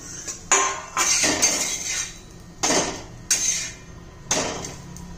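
A metal lid lifted off and a spatula turning a bajra thalipeeth in a pan over a gas flame, giving several sharp clanks and scrapes at irregular intervals, close and fairly loud.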